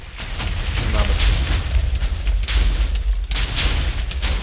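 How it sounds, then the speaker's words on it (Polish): Rapid TNT explosions in a Minecraft TNT Games round, dense deep booms and blasts rumbling one after another, fairly loud and continuous across the stretch. "Dlatego były te wybuchy, nie? Tak jak teraz, o."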